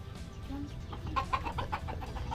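Chickens cluck in short bursts close by, a few quick clucks clustering in the second half over a low background murmur.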